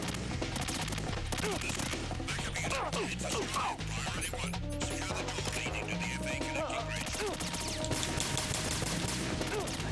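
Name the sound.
gunfire in video game Metal Gear Solid 2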